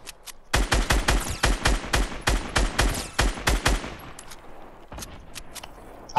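In a video game, a weapon fires a rapid, loud burst of about a dozen evenly spaced shots, then a few scattered, fainter shots after a short pause, with no talking.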